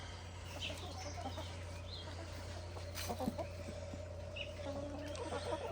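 Chickens, including a rooster with a pinkening comb, cluck softly in a coop in the evening, faint and scattered over a steady low electrical hum.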